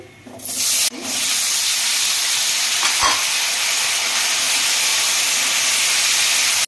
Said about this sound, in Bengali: কড়াইটা গরম, আলুটা দিয়ে দিচ্ছি